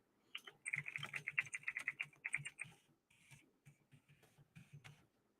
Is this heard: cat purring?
no